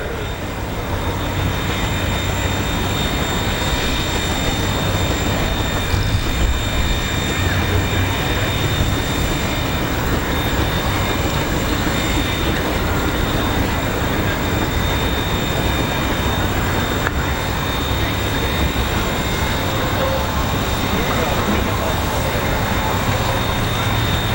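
A 1903 George Scott steam traction engine, rated 16-50 horsepower and about 8.5 tons, runs at a threshers' steam show in Wauseon, Ohio, producing a loud, steady, broadband mechanical roar with no clear breaks.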